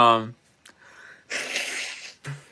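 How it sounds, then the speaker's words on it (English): A person blows their nose in a long, breathy honk that follows a spoken phrase, with a short sniff at the end, close and fairly loud. "had to blow my nose"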